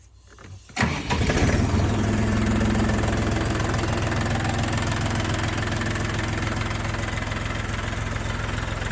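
A Scout TY-254 mini tractor's Kama 385 diesel engine cranks and catches, then settles into a loud, steady, rattling idle nearby for several seconds.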